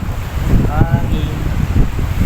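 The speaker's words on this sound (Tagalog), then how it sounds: "Hangin." Strong wind buffets the microphone outdoors during hand-line fishing by the sea in bad weather, a continuous low roar with gusts and a faint whistle-like tone.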